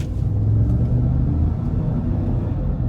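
A 2016 GMC Yukon's 6.2 liter V8, 122,000 miles on it, gets a short blip of throttle, a low rumbling rev that swells briefly and settles, close by and without speech.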